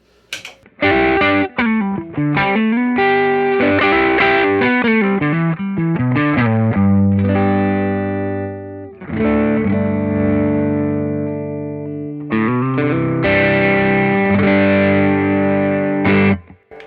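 Electric guitar through an overdrive pedal into a clean amp, playing chords and short riffs, loud and gritty with sustained notes, pausing briefly midway before resuming.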